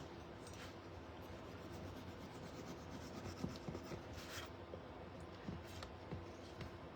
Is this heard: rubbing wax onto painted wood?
yes